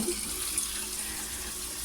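Water runs steadily from a tap into a container, a faint continuous hiss of flow with no talking.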